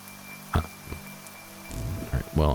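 Steady rainfall from the zombie survival game Terminus: Zombie Survivals hisses quietly in the background while a few brief clicks sound and a voice starts talking over it near the end.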